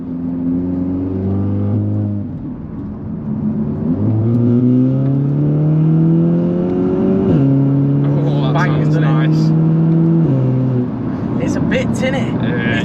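A Cupra Ateca with its GPF/OPF removed accelerates hard through several gears, the exhaust note climbing steadily then dropping at each shift, loud and close from inside the car, slightly tinny in tone.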